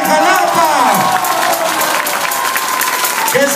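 A crowd at a political registration event for a local deputy pre-candidate in Jalapa claps and cheers loudly, with voices shouting and whooping over steady applause.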